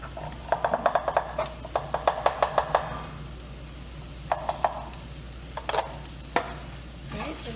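Onions and corn frying in a pan under a soft steady sizzle, punctuated by bursts of quick spatula taps and scrapes against the pan.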